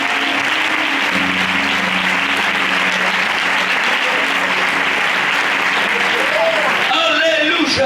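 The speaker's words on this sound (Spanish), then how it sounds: "Fuerte aplauso para el Señor." Church congregation applauding loudly and continuously, a thick sustained roar of clapping with voices mixed in and a few shouts near the end.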